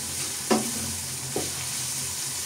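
Chopped tomatoes and sliced green chillies fry over high heat in a pan, a steady sizzle with two brief scraping stirs.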